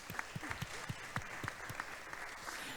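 An audience at a talk on gender and climate claps for the speaker, a fairly faint patter of scattered hand claps from a modest crowd, heard at some distance.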